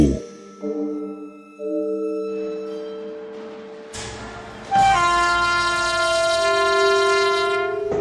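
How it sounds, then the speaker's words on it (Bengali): A train horn sounds in long, loud, sustained blasts, shifting pitch as it goes, over a rumbling engine and rail noise. "ট্রেন কুচিকচিক শব্দ করতে করতে নিজের গতি বাড়ায়।"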